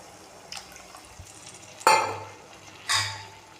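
Tamarind extract poured into okra masala frying in oil in a pan gives two sharp splashing sizzles about a second apart, each fading quickly over a quiet cooking background.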